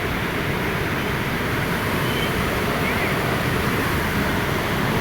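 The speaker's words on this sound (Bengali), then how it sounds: "এত স্রোত যাচ্ছে মামা, মাথা নষ্ট। এটা বীরগঞ্জের সুইচ গেট।" Powerful current rushing through the Birganj sluice gate, a dense, loud, unbroken roar of churning water with no pauses, close by and filling the scene.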